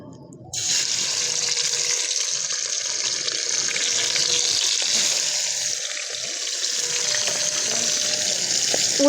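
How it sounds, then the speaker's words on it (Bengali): Meat pieces frying in hot oil for bamboo biryani give a sudden loud rush of sizzling that holds as a dense, even hiss, with faint pan knocks underneath. "মাংসটা এবার ভেজে নেব।"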